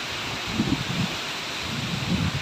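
Gusty wind before the first rain rushes through rustling coconut palm fronds in Karnataka, a steady roar with louder swells of leafy rustling, no speech.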